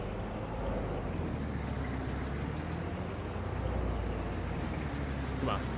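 A pickup truck rumbles steadily along in Farming Simulator 22, its low engine drone and road noise continuous and fairly close, with no talk over it.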